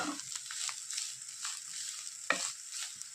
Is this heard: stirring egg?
yes